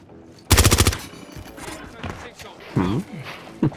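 Machine gun fire in Modern Warfare Warzone rips out as one rapid, loud, close burst of about eight rounds, followed by scattered quieter shots and a short second burst, with people talking over it.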